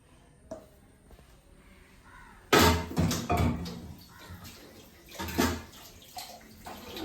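Water poured into a cooking pot of Kerala buttermilk curry (moru curry) with ground coconut paste, a close, splashing gush that starts abruptly partway through and comes in uneven surges, after a quiet stretch with small kitchen clatter.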